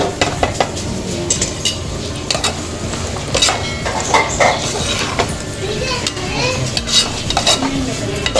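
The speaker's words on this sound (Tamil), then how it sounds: "நல்லா போட்டு நல்லா இப்படி கிளறி விட்டுருவோம்." Cuttlefish and potato pieces stirred and frying in a pan, a steady sizzle with scraping spoon strokes against the metal, while people and children talk over it.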